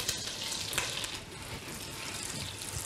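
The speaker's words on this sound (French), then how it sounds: "je veux juste que mon beurre fonde" Butter melts in a saucepan for onion soup, giving a faint, steady soft sizzle and bubbling hiss with no speech over it.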